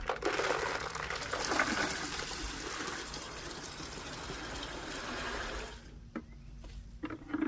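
Water gushes and churns steadily for several seconds as raw wild clay is dumped into a bucket of water, then drops off, leaving a few faint splashes and clunks.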